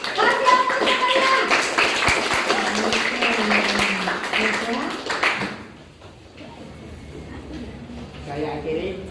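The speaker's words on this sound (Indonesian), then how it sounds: "Kasih aplaus untuk kelompok 2 dan Dimas" Classroom audience applauding group 2 and a student named Dimas, a burst of close clapping under a teacher's voice that fades, with talk continuing afterward.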